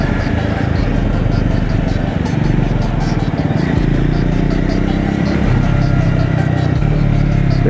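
A Triumph Scrambler 400X motorcycle engine drones steadily while riding in third gear at around 4,000 rpm, a constant close-up hum with wind rush, vibration rising, no clear pauses.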